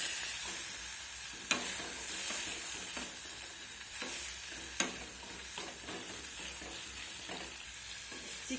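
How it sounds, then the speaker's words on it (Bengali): Boneless chicken seasoned with salt and turmeric sizzles as it is stir-fried in a pan, with a steady frying hiss broken by sharp spoon clacks and scrapes against the pan at irregular intervals. Nobody speaks. "এখন চিকেনটাকে নেড়ে চেড়ে ভেজে নিতে হবে।"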